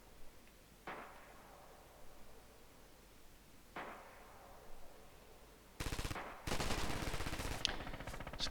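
Machine gun fire in a competitive video game match, a few distant bursts early on, then a louder, closer stretch of sustained rapid fire.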